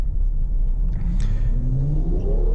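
A BMW with a bi-turbo engine revving, a loud close rumble whose pitch rises steadily as it accelerates, alone with no talking.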